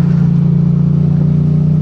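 A loud, steady engine drone from an MT-07 motorcycle with a CP2 engine and no muffler, a deep, throbbing low rumble holding at an even idle-like pitch throughout.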